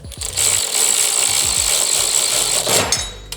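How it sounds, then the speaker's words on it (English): A wrench snugs down an engine guard bolt on a Harley Softail motorcycle, giving a loud continuous harsh mechanical buzz with quick repeated low clicks at the start and end. "now we can snug it down, find my position, put the wrench on"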